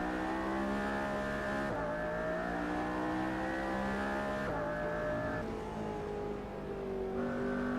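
A McLaren F1 GTR race car engine in the Assetto Corsa racing game, roaring loud and close as it revs up through several gears with sharp shift drops between pulls, alone without talk.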